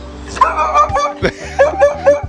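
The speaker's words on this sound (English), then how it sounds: "Hello, guard dog." A dog gives a few short barks and yips close by, broken up by moments of quiet, with low hum underneath.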